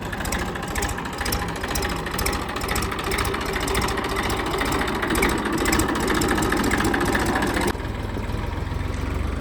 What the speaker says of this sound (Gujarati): આ જાય છે આપણું ટ્રેક્ટર